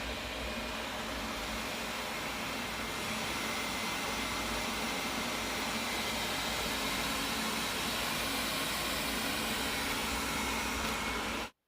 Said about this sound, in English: let's see how loud the robot vacuum is